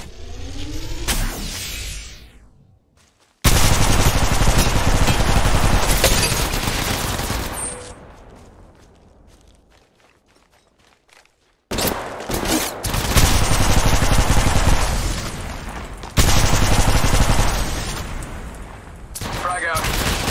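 Automatic gunfire from the mobile shooter Apex Legends Mobile comes in loud, dense bursts, with a quiet gap in the middle before more sustained firing resumes. Occasional game voice lines sound alongside it.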